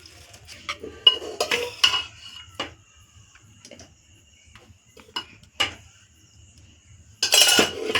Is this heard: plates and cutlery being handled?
yes